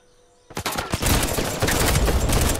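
Rapid automatic gunfire bursts out in an Uncharted 4 multiplayer match, starting abruptly after a quiet moment and continuing as a dense, loud fusillade of overlapping shots.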